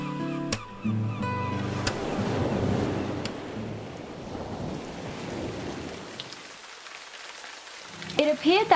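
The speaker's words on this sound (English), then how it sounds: "In the morning, we woke up to some more rain." Steady rain pours down on a sailing boat, a dense continuous hiss with a few sharp knocks at the start, fading somewhat before a louder patter of drops near the end.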